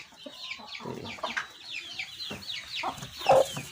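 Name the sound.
Java rooster clucking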